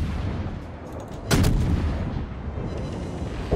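A single heavy naval shell impact in World of Warships, one loud booming hit with a rumbling tail over continuous low engine and sea ambience.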